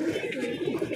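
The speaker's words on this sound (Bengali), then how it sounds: "আর এখানে একটা ম্যাটাস পায়রা দেখো, এই ম্যাটাস পায়রাটা আমার খুব পছন্দের পায়রা।" A Matas pigeon cooing close by, a soft, low, throaty coo with a slight wavering pulse lasting the whole moment.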